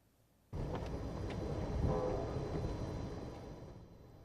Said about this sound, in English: the train that many feel is the most scenic on their system, the Coast Starlight